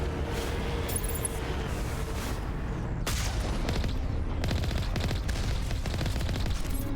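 Repeated turret gunfire from a vehicle in the video game Mass Effect, dense bursts of shots and booming impacts over continuous rumbling game noise, loud and sustained.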